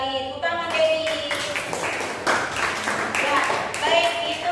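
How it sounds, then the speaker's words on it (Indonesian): Classmates clap for a student in an Indonesian language lesson, a short burst of scattered clapping mixed with bright tones and background voices. "Bagus sekali, tepuk tangan Debbie"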